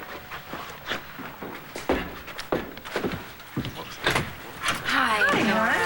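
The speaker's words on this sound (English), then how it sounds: "I'll get the door." A door opens on a soap opera set, with dull thunks and footsteps amid other room noises, close by, while people talk over it.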